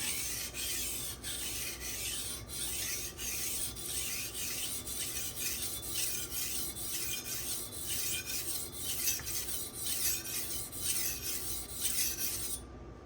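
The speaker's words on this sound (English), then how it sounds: "This is a hard stone that you feel cutting the steel." A steel kitchen knife scrapes across a hard Japanese whetstone in steady, evenly spaced strokes, a continuous close scratchy rasp pulsing about twice a second.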